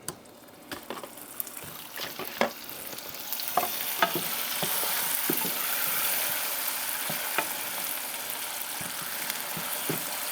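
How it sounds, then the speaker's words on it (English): Butter is stirred into hot caramelizing sugar in a pan for peach cobbler, giving a steady, loud sizzle that swells as it melts, with scattered clicks and scrapes from the stirring utensil and no voices. "Just want to keep stirring that until all the butter is melted."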